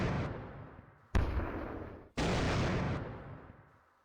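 Heavy artillery and gunfire bursts from units in a WW2 hex-based turn-based strategy game, three loud, close booms in sequence, each striking sharply and then decaying into a long rumbling tail.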